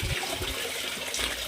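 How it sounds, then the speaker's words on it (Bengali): Water runs steadily from a gomukh spout that never stops flowing, a constant splashing rush heard close with no talk. "এই গোমুখ থেকে কখনো জল পড়া বন্ধ হয় না।"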